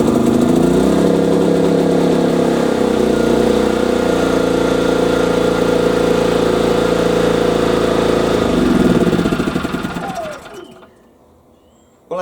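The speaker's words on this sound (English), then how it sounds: "and then we can pull start the generator" A Hyundai HY3200SEi inverter generator runs with a loud, steady engine drone for about nine seconds after being pull-started, then winds down and falls quiet near the end.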